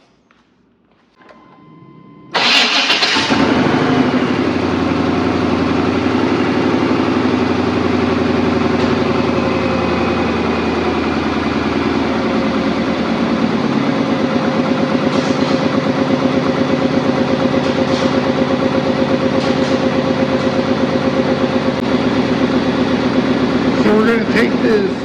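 A Chevrolet Tahoe engine with a suspected vacuum leak starts after a brief quiet moment and then idles loudly and steadily close by, with a few faint clicks over the running engine.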